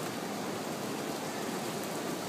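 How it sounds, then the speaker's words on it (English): Heavy tropical-storm rain blows sideways in a steady, loud hiss of dense noise, constant and unbroken with no voices over it. "it's raining sideways!"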